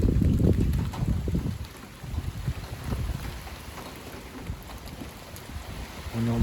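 Strong wind from storm Darragh buffets the microphone in sustained low roaring gusts, loudest at the start, with a steady rushing roar continuing throughout and no speech.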